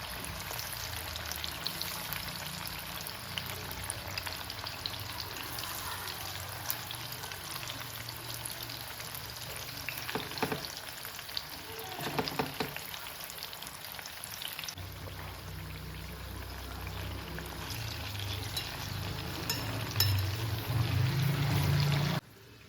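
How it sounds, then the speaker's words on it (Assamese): Pointed gourd and eggplant frying together in oil in a wok, giving a steady crackling sizzle with occasional stirring scrapes and a brief rise in sputter near the end. "একেটা কেৰাহীতে মই ইয়াত তিয়ঁহটো ভাজি দিছোঁ। পটল, বেঙেনা গোটেইখিনি একেলগে ভাজি দিম।"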